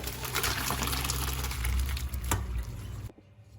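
Hot water is poured off cooked chard through a strainer, a loud close gushing pour running steadily for about three seconds and then cutting off abruptly.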